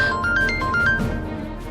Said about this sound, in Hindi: देखो उसका फोन आया।